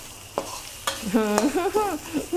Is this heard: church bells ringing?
no